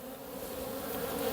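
Honeybees buzzing at an open hive during an inspection of the frames, a dense steady hum at close range with no voices.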